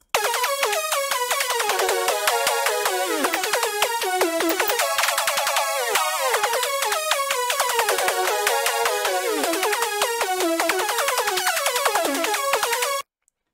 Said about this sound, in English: how to make a Eurobeat brass on Serum